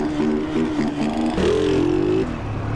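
A carbureted Honda CG 150 motorcycle engine revs close by, with a buzzy, uneven idle that jumps into a sharper, higher rev before settling back down.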